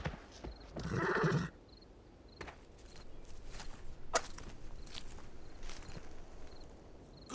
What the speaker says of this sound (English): I need your horse.